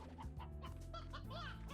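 Chickens clucking in a video game, a steady string of short, near, layered calls running over a constant droning background tone with no talk.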